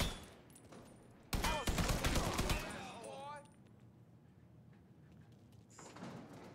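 Short burst of automatic gunfire from an inaccurate gun in the crime shooter Mafia 3, a loud rapid volley lasting about a second and a half, then fading into quieter game ambience.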